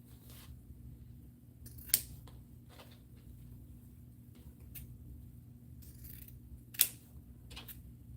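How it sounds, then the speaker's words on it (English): Scissors snip ribbon at an angle for wreath bows, two sharp close cuts standing out among faint handling rustles in a quiet room. "for my bows, I tend to just like to cut them at an angle."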